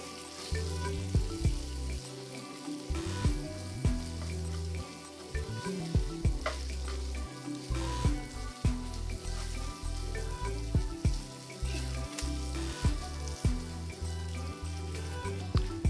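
Spices and tomato paste sizzle and fry in a pan while being stirred for a chips masala, a steady close crackle with spoon scrapes and knocks scattered through.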